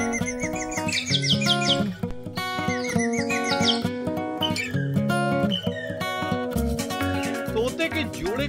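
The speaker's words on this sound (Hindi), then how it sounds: "तोते के जोड़े को अपने कंधों पर बिठाए ये राजसमंद का रहने वाला करण सेन है" A pair of parrots chirping in a rapid, busy stream of high tweets and squawks, layered over loud music and a voice talking throughout.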